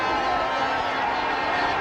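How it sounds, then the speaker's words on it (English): A speedway crowd at a 1992 Glasgow versus Cradley Heath meeting roars in a steady, dense wash of noise that holds at an even level for the whole short stretch. "For a roar from the crowd."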